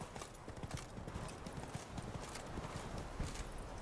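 Roach, the horse in The Witcher 3, gallops with rapid, even clip-clop hoofbeats, close and steady throughout with a faint whinny-like note in the mix.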